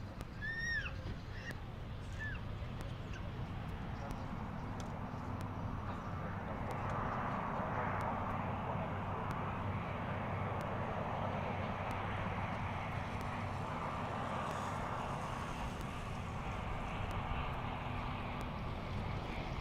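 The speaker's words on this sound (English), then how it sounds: "Viva Aerobus is next. Another Mexican airline on an Airbus A321 right there." A Viva Aerobus Airbus A321 airliner at DFW airport makes a steady, distant jet roar that swells gently across the scene, mixed with wind noise and a few faint bird chirps at the start.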